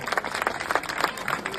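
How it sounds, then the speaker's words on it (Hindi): A village crowd at a poetry gathering in Machipur, Khurja, claps briskly in a short, lively burst, many hands close together with no talk over it. "जोरदार तालियां एक बार इनके लिए।"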